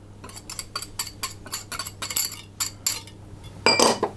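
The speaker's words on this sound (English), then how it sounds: "I'm going to mix those around until everything is combined" Egg yolks and sugar are mixed in a bowl for a lemon meringue pie, a utensil clinking and scraping against the bowl in quick repeated strokes, with a louder burst of clatter near the end.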